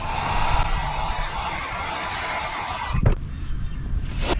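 Heat gun shrinking heat shrink tubing over a wire during LED light installation on a bass boat trailer: a steady blowing whoosh, fairly loud, ending with a short clunk.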